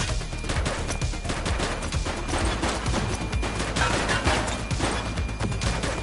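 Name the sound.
gunfire in a shootout, from the video game The Precinct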